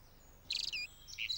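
Faint, high chirping bird song of spring, a few short bright phrases and trills over a quiet outdoor background with no voices.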